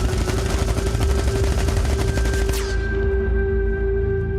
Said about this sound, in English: this more constant stream of almost suppressing fire